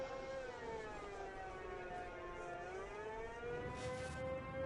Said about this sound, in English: Hear the sirens going for the police officer's car.